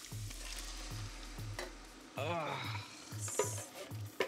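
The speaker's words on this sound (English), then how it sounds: "So in goes the tomatoes." Tomatoes hit a hot pan for a tomato sauce and sizzle, a soft hiss with stirring scrapes and clinks, set against a steady low electronic pulse and brief background sounds.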